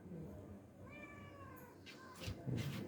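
A cat meows a few times nearby, the calls rising and falling over a rustling, noisy background with faint voices.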